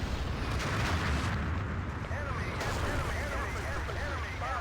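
An artillery strike in a Battlefield 2 match, with dense rumbling explosions and booms crowding together under steady battlefield noise, loud and continuous from start to finish.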